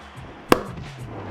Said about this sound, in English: Let's do some of them man claps.